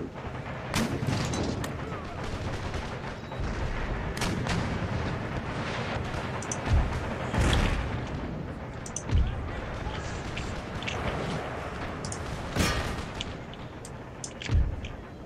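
Artillery fire in a multiplayer war video game comes as a series of sharp, booming shots and blasts scattered through a busy battlefield mix, with gameplay noise in between.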